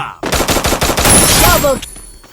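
Rapid automatic gunfire in a shooter video game during a firefight, about eight loud close shots in a fast burst before cutting off.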